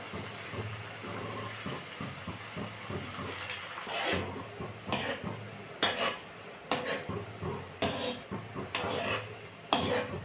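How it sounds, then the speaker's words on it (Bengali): Hand-made semai fries in oil in a wok over a low gas flame, a soft steady hiss under intermittent clattering of a utensil against the pan. "এবার ভেজে নেব সবগুলোকে।"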